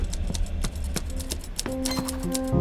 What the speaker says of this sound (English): Woman looks up from her typewriter as I enter.